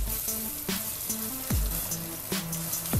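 Margarine melts and sizzles in a hot pan, a steady crackling fry with occasional stirring clinks and scrapes, close and alone with no talk.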